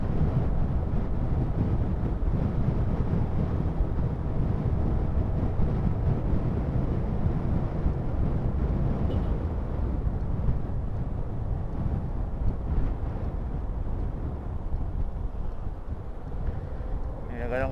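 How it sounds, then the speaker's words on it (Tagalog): Strong crosswind buffets the microphone while a motorcycle rides on the open road, a steady, heavy low roar running unbroken throughout, with someone talking over it at times. "Lakas ng crosswind."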